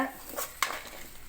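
Chopped tomato and curry leaves are sautéed in a pan for a snake gourd kootu: a brief scrape of the stirring spoon with one sharp metallic clink against the pan.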